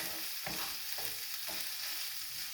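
Chorizo sizzling steadily in a hot pan, a close, continuous frying hiss broken by three regular scrapes of stirring, with no voices.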